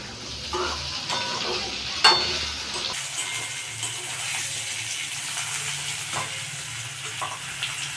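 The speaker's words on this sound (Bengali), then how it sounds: "দিয়ে আলুটা ভাজা হচ্ছে" Potatoes fry in a pan with salt and turmeric, giving a steady, close sizzle with stirring scrapes and a single sharp clink early on.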